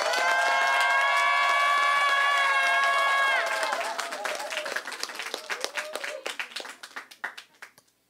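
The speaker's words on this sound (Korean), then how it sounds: "목사님 나오시면 크게 박수로 이렇게 환영하시길 바랍니다" A church congregation at a worship service claps to welcome the pastor, starting under loud sustained music, then continuing alone as scattered claps that gradually thin out and fade.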